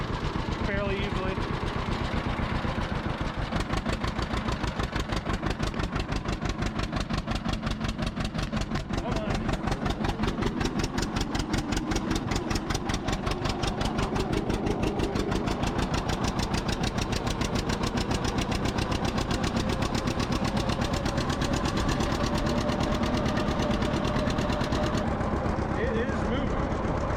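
A John Deere tractor engine runs steadily throughout, a close, continuous mechanical drone with a rapid regular firing pulse, loud and unbroken.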